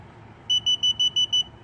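Six evenly spaced, piercing beeps sound from the Hansshow power liftgate unit on a Tesla Model 3 during setup, close and distinct above a low hum.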